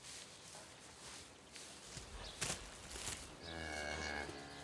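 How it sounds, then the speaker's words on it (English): Cattle on a farm: a cow gives a long, low moo near the end, with faint rustling and outdoor background noise before it and no talk. "He wants to have Nougaro adopted by a cow that has just lost her calf."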